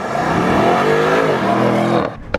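A 2020 BMW 750i drives past at a cars-and-coffee meet, its loud engine revving and roaring close by for about two seconds, then cutting off abruptly with a short bump at the end.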